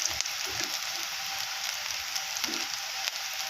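Onions, curry leaves and mustard seeds fry in hot oil for a tempering, giving a steady close sizzle with a few soft pops and stirring.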